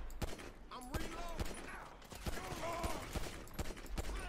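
Gunfire in the GTA Online video game, a pistol cracking in a rapid string of sharp shots at irregular intervals with someone talking over it.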